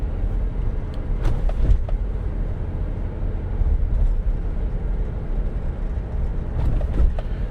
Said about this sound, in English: I intentionally wanted to come through and hit some speed bumps just to test out the front and rear suspension.